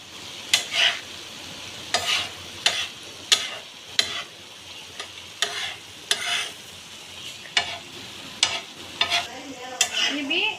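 Egg being stirred into a simmering mutton curry (egg kalakki), a spoon scraping the pan in repeated sharp strokes about every second over a soft sizzle, close and clear with no talking.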